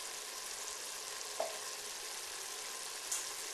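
Cooking liquid simmers and reduces in a pan, making a steady, soft bubbling hiss with a couple of small pops, heard alone at low volume.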